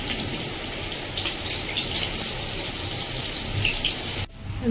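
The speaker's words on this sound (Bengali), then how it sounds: "জোর বৃষ্টি হচ্ছে" Steady, dense hiss of heavy rain pouring down at JSW Vidyanagar township in Karnataka, constant and loud, cutting off abruptly near the end.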